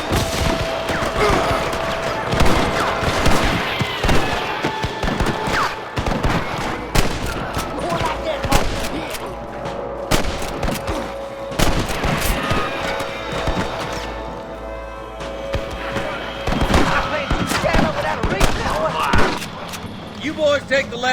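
Shootout in Red Dead Redemption, with rapid bursts of gunfire and scattered single shots cracking throughout under frequent shouted voices, loud and chaotic.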